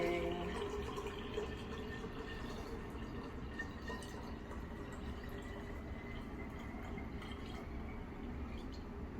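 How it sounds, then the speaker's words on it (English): Water pours steadily into a cup for a foam rain cloud science experiment, a quiet, continuous liquid trickle with no talk over it. "So I'm going to start pouring."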